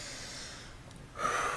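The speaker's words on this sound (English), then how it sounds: "Take a nice breath." A person drawing one slow, deep breath through the nose, an airy rush of inhalation that swells near the end, close and alone.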